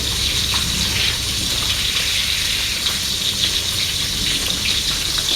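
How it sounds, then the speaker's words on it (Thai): Steady bubbling and hissing of water at a rolling boil in a pot, close and continuous, with a faint sizzle underneath. "อันนี้น้ำเดือดแล้ว"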